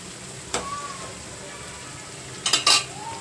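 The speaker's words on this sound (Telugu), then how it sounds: "ఉల్లిపాయ ముక్కల్ని బాగా గోల్డెన్ బ్రౌన్ కలర్లో వేయించేసుకోవాలి" Onion pieces frying golden brown in a pan for an Andhra-style prawn and gongura curry: a soft background sizzle broken by a brief scrape, then a louder clatter of stirring against the pan near the end.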